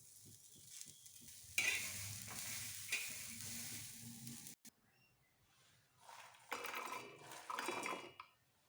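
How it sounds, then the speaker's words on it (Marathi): Pigeon pea pods and green chillies roast in a pan with a steady sizzle and scraping stirs, fading briefly before a second burst of frying and stirring. "तुरीचे सोले आणि हिरवी मिरची चांगली भाजून घेऊ."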